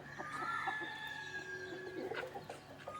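Native country chickens cluck and call in the morning, quiet and somewhat distant over a steady low background hum, with no one speaking.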